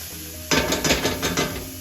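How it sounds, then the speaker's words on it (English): Onions stirred in a hot skillet without oil, producing a rising sizzle and a run of quick scraping strokes that start abruptly after a quiet moment, loud and close. "I stir those around. Let them get translucent"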